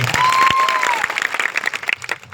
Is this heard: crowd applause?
yes